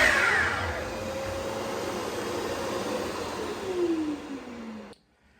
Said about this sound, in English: Also turns on the vacuum.